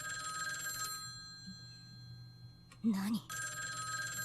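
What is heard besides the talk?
telephone ringing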